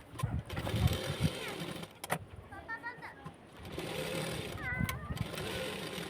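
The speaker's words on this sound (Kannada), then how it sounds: "ಸೊ ಇವಾಗ ಸೈಡ್ ಸ್ಟಿಚ್ ಕೂಡ ಹಾಕೋದು ಕಂಪ್ಲೀಟ ಆಯ್ತು ನೋಡಿರಿ" A sewing machine runs in bursts while stitching the side seam of a lined blouse, its motor whir starting and stopping, with a person talking over parts of it.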